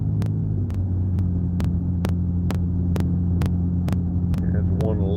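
A truck on the road gives a continuous loud, low rumble and throbbing hum from inside the cab, with regular ticking clicks running over it.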